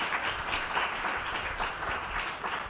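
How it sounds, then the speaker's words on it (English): An audience at a conference session on agriculture and technology claps together in a steady, moderately loud round of applause that stays even from start to finish. "So just a huge round of applause for them,"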